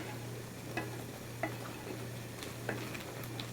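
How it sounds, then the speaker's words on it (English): A spoon stirs Moroccan beef kefta tagine sauce in a pot, with faint scraping and occasional light clinks over a steady low kitchen hum and soft sizzle. "Just stir that real quick so you get a sense of what that looks like."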